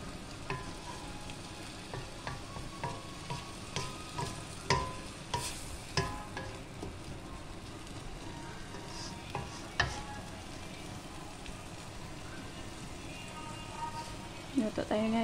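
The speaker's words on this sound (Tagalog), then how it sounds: "Magluto tayo guys ng ampalaya." Bitter gourd (ampalaya) stir-frying in a pan: continuous sizzling with repeated sharp clinks and scrapes of a utensil stirring, close and steady, while a person talks over it.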